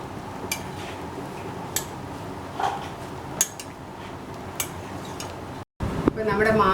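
A metal fork clinks and taps against a pot while green mango boils, giving a few sharp, separated clicks over a steady low bubbling hiss, with a brief cut near the end.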